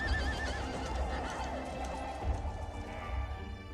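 A medieval knight's horse in the 1981 film Time Bandits whinnies loudly amid clattering hooves and crashing movement inside a bedroom, a busy, reverberant film soundtrack.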